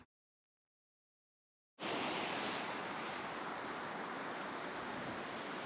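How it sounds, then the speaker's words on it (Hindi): Mountain waterfall in the Himalayan hills near Shrikhand Mahadev, Kullu, Himachal Pradesh, heard as a loud, steady broadband rush of falling water that starts abruptly after a short silence and continues without a break. "पल पल बहते झरने का बेहद ही खूबसूरत दृश्य है"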